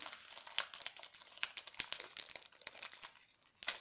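Crinkly plastic wrapping of a Yu-Gi-Oh booster pack rustles and crackles up close as it is handled and torn open, a quick series of sharp crumpling sounds.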